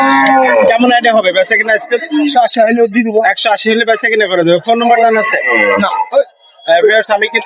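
Cows and a calf at a livestock market moo in long, loud, drawn-out calls close by, one after another, with a short pause before a final low call.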